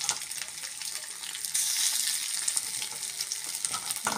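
Flattened pathar-oil bora fritters frying steadily in hot oil, a continuous close crackling sizzle that grows slightly louder partway through and carries on without pause.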